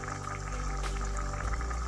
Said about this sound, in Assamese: এয়া পানী দিয়াৰ পিছত উতলি আছে।